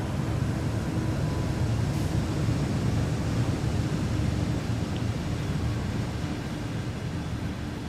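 A video-game diesel locomotive at throttle notch 8 descending Cajon Pass in the snow, a loud, constant low engine roar with a steady broadband hiss.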